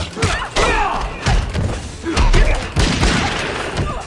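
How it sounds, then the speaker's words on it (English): In a video game, the fighter Stryker fires a gun amid a dense run of heavy thuds, booms and impacts, loud and close throughout. "sometimes that gunshot won't connect if you do that"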